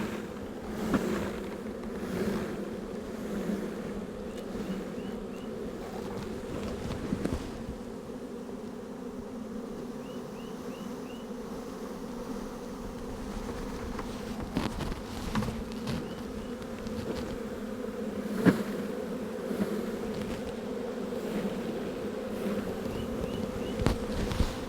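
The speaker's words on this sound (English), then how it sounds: "Get a bunch of bees in the box here." Honeybee swarm buzzing steadily and densely on tree branches during a massive swarm capture, a continuous close drone with occasional brief knocks and rustles, no talking.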